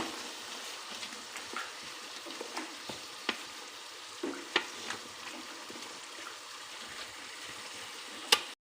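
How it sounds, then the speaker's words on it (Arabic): Onion and tomato paste fry in a pan with a soft, steady sizzle, broken by occasional clicks and scrapes of stirring. The whole sound stays fairly faint and close. "وهسه نحمس"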